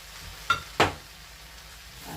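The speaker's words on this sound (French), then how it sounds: "on va les laisser rissoler toujours à feu vif en les couvrant" Carrot and zucchini scraps fry in a wok over high heat with a faint continuous sizzle, broken by two quick metallic clinks close together near the start.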